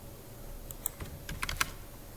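Code is typed on a computer keyboard at close range, a quick scattering of light key clicks with one or two sharper taps, faint and unhurried against a quiet background.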